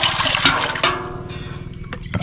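Water poured into a measuring jug in several separate pours, with splashy bursts and gurgling fill between short pauses, loud and close.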